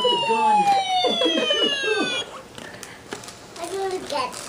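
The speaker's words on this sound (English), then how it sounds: "It's an ambulance." An ambulance siren wails in steady descending sweeps, loud and close for about two seconds, then cuts off, with children's voices and indoor talk continuing afterward.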